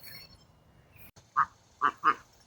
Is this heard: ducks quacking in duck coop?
yes